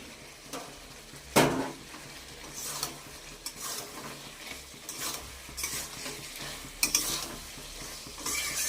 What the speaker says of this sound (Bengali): এই দিয়ে দিলাম আলু আর পনিরটা।